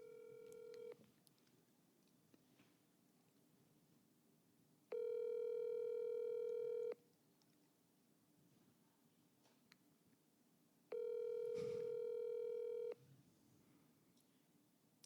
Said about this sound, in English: Ladies and gentlemen, she is dialing.